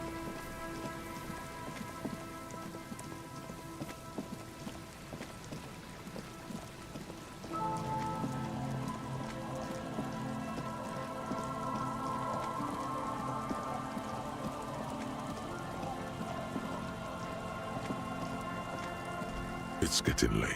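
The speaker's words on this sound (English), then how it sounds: "It's getting late, and it's raining." Rain falling in the video game Disco Elysium, a steady soft hiss of drops with a low rumble beneath, quiet and continuous, while a background music drone thickens partway through.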